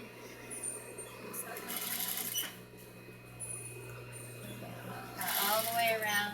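A sewing machine stitching a dress sleeve, running in bursts of rapid whirring stitches with louder surges near the start and end, close by, under a low hum.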